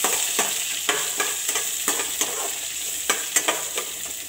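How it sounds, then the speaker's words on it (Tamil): Chopped onions sauté in a pan, a close hissing sizzle broken by regular scraping strokes of a spatula, about ten stirs in quick rhythm with no talking. "வெங்காயம் நல்லா பொன்னீர் ஆகிற வரைக்கும் இதை நல்லா வதக்கிடுங்க"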